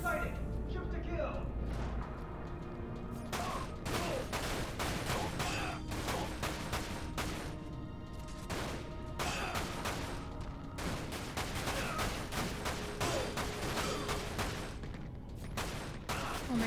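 Rapid bursts of video game gunfire from Dirge of Cerberus (Final Fantasy VII) crackle repeatedly throughout, dense and steady under a constant bed of game music and effects.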